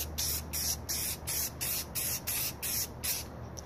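Spray paint hisses onto a Glock 19/23 pistol slide in a series of about nine short, evenly spaced quick bursts, faint and close, with no talking.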